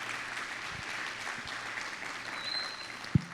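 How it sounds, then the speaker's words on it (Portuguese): A church congregation claps during a teaching worship service, a soft, steady wash of applause at moderate distance, with a single sharp thump near the end. "Aplauda o Senhor em nome de Jesus"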